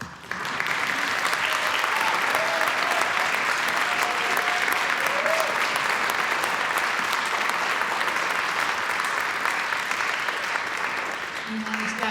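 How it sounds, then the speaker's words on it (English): Sustained, loud audience applause for soloists taking a bow at a concert in the George Washington Masonic National Memorial, dense steady clapping from a large hall crowd that continues throughout. "if you want to applaud"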